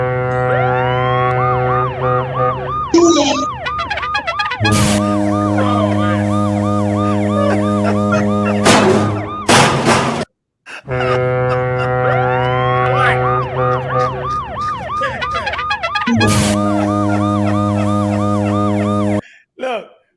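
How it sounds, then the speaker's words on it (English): A loud electronic alert siren sounds in harmonic, warbling tones, playing through once, cutting out briefly, then repeating a second time. "The pseudo alert went off, yo."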